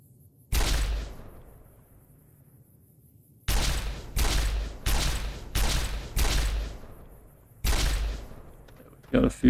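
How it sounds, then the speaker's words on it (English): Rifle gunshots in Fallout New Vegas, seven sharp loud reports with decaying echoes, one isolated shot then a rapid run of five and another, ending with brief clicks. "Got a few shots in."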